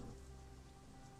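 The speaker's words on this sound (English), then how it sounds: "Foul, oily water rains down from above, mixes with the filth and offal and swill of the streets" Steady rain falls in a dark city street in the Shadowrun Hong Kong video game, a faint continuous patter and wash of water with no talk.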